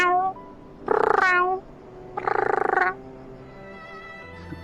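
A person imitates a cat's meow with their voice, giving two drawn-out, tonal mewing calls with a pause between them, loud and close, followed by quiet.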